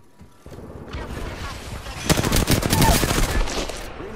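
Video game gunfire begins after a quiet start as a steady crackle, then swells partway through into dense, rapid bursts of automatic fire with sharp cracks, carrying on to the end without letup.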